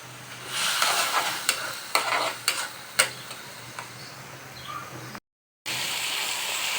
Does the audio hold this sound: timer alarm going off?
no